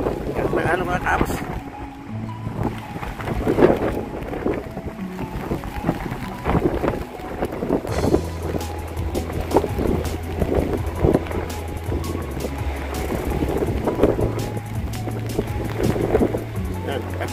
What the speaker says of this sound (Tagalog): Gira ang dagat. Oh. Malaki ng alon.